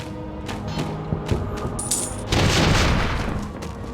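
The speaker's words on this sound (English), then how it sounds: "So what we gotta do is use the cannon." A cannon fires in the video game Enclave, with a series of sharp booms and clattering impacts building to a loud, sustained blast near the end, with no talk.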